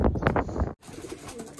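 Racing pigeons coo in a loft, a few soft, low throaty calls up close, followed by fainter background cooing and shuffling.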